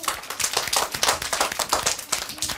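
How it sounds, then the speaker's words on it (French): A group of people clapping together in steady, dense applause, close and lively, with no voices over it, lasting a few seconds. "Bravo, on applaudit."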